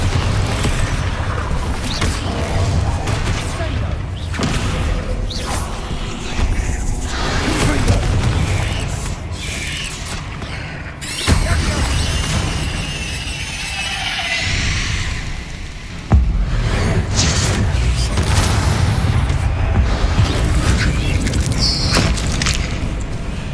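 Explosive Confringo and Bombarda spells blast in the Hogwarts Legacy video game, dense loud booms and crackling bursts in quick succession, with sharp impacts near 11 and 16 seconds.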